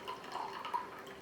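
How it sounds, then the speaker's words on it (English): Excess liquid is poured slowly off settled potato starch, giving faint, close drips and small trickles with no other sound. "you should be able to pour off a lot of the excess liquid without pouring off the starch that has settled in the bottom"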